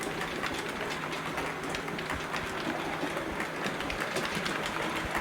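A model railway locomotive, a rebuilt West Country class named Trevone, running along the track with a steady mechanical whirr and fast rhythmic clicking of wheels over rail joints, moderately close and continuous.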